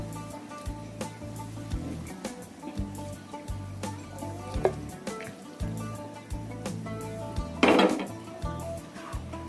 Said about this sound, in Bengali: আমি এবার দশ মিনিট পরে ঢাকনাটা উঠিয়ে নিব